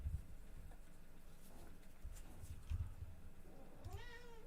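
A cat meows near the end, a rising then falling wavering call after a couple of soft thumps and faint rustling in an otherwise quiet room.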